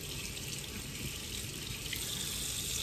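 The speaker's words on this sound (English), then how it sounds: "Wash my hands." Hands being washed under a running kitchen tap after icing a strawberry pie cake, a steady, close, even rush of water with no talking.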